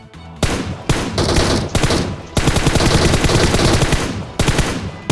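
Loud, close automatic gunfire from the mobile shooter Battlegrounds Mobile India, with rapid bursts broken by short pauses and sustained volleys of shots.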